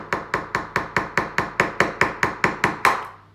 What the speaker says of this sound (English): it's 2 stages to crack an egg